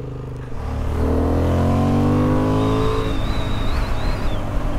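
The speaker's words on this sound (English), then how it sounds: "Listen to this engine." A 2023 Honda CB750 Hornet motorcycle engine revs up close, pitch climbing steadily as it accelerates, then settles into a strong sustained drone with a faint whine above.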